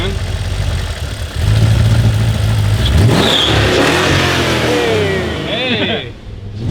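E38 engine in a car build idles roughly, then revs up hard with rising and falling engine pitch, close and loud, while people talk nearby.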